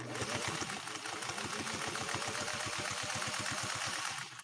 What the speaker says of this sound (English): So here goes our second sew off, 2 layers of Italian leather.